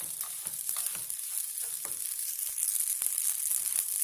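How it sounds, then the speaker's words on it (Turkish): Bulgur roasts in a pan with a steady dry sizzle, punctuated by repeated scrapes and clicks of stirring, close and continuous. "Bulgurumu güzel kavurdum arkadaşlar."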